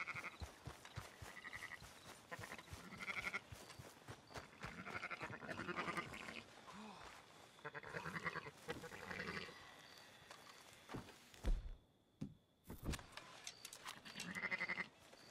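Sheep bleating in the Red Dead Redemption 2 video game, repeated calls rising over a busy game soundscape, fairly close and loud, with brief quiet gaps near the end.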